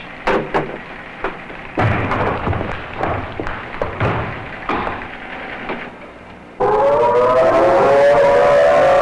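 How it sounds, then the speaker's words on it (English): A civil defense tornado siren begins wailing loud and sustained in the final seconds, a rising steady tone, after a stretch of scattered thumps and knocks. "For the first time in 17 years, the civil defense sirens are sounding in earnest."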